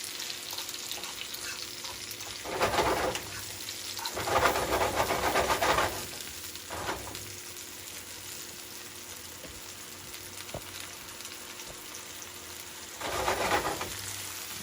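Jamaican bully beef and rice cook in a pot with a continuous soft sizzling hiss, rising into louder bursts of bubbling steam now and then.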